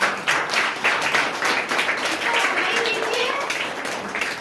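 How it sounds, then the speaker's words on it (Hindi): Students and staff clap at a school results announcement for the first-place pupil in class one. The clapping comes in loose, uneven bursts with audible individual hands, and a voice talks over it throughout. "जोरदार ताली से"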